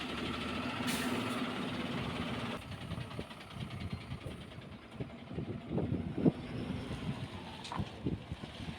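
A big lorry truck rumbles along the road with a steady low engine drone and road noise, a hiss like an air brake at one point, and no voices over it.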